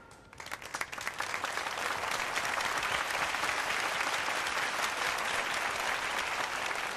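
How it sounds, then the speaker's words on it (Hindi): Audience applause at a prize distribution ceremony, a dense sustained clapping that swells in over the first second and holds loud and steady, with no voices over it. "एक बार फिर से जोरदार तालियां"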